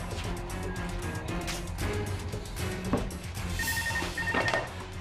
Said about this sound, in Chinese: 唔好意思，我电话入，我再打翻俾你吓